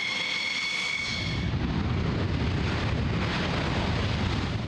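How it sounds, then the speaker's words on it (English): F-16 Thunderbirds jets from the United States Air Force roar overhead, a loud, broad rumbling blast that swells and holds steady with a high whine fading in the first second. "Behind me are the F-16 United States Air Force Thunderbirds"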